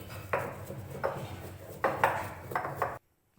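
Tulsi leaves are mixed by hand in a bowl for a home herbal cough remedy. Several rhythmic scraping and clinking strokes sound up close, then everything stops abruptly.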